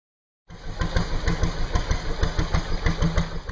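A narrowboat's engine idles after a moment of silence, settling into a steady, close chugging thump with an even low rhythm.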